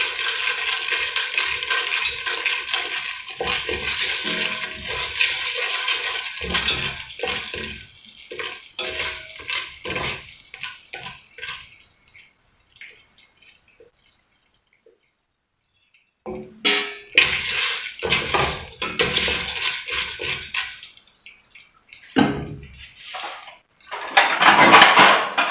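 Popcorn maize is stirred in a pot, giving a rattling, scraping rush of kernels against metal that comes in uneven bursts with a quiet gap in the middle.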